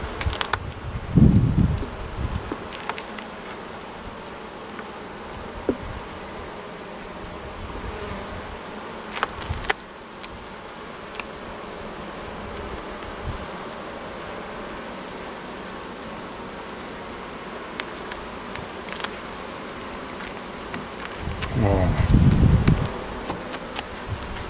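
Honeybee colonies buzz steadily at the hives throughout, a dense insect drone with a few louder bursts as bees pass close by. No one speaks.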